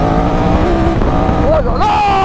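A 2022 Triumph Tiger 1200 adventure motorcycle with a reworked Speed Triple-derived engine, running loud and close in a continuous drone while a rider's voice exclaims over it.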